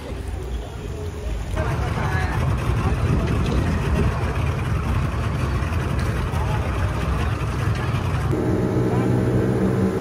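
A motorboat engine roars up close at sea off Pattaya, Thailand, staying loud and steady, with wind buffeting the microphone, before dropping back toward the end.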